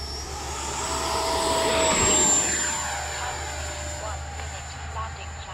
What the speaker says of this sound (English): we're going to do take off flaps this time. Take off one more time.